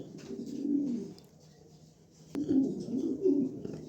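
Pigeons cooing close by in a display cage, two bursts of low, throaty, rolling coos separated by a brief lull, with a sharp click between them.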